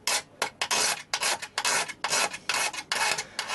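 A razor blade scrapes paint off a red plastic part on a mini lathe, producing about a dozen short, close rasping strokes in a steady back-and-forth rhythm.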